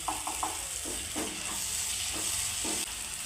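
Ginger frying in oil at the side of a pan of dried prawn and tomato curry, a steady close sizzle with a few soft stirring scrapes, no talking.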